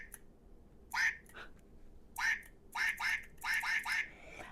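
A duck-shaped fidget toy for a keyboard gives a series of nasal, reedy quacks, five or six short bursts close up and fairly quiet, with no talking over them.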